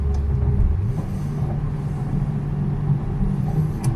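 Steady low engine drone and road rumble from inside a supercharged 2006 Ford Mustang moving in third gear at about 80 mph, even and sustained with no voices.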